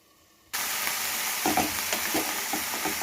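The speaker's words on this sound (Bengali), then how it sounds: "দেখেছো জুগিনিগুলোকে কত সরু সরু করে কেটে নিয়েছি আর নেড়ে দেবো" Grated zucchini noodles drop into a hot pan and burst into loud, steady sizzling, with soft scraping and stirring knocks of a utensil recurring throughout.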